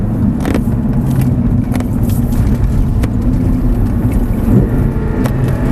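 An Audi R8 on a track, its engine droning loud and steady as it accelerates, with brief breaks in the roar as it shifts up through the gears.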